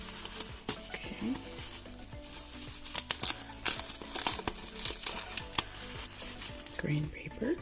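Green wrapping paper crinkles and rustles during an unboxing, close and busy, with irregular crackling handling bursts throughout and a brief voice near the end.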